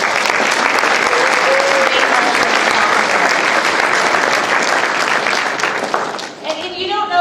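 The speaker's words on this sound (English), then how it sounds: "So huge round of applause to all of them." Sustained audience applause for office and field staff at a river program event, loud and steady for several seconds before tapering off near the end.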